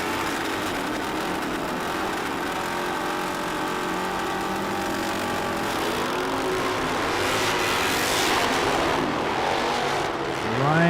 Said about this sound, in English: Ryan doing a little squealing and peeling, getting out of there.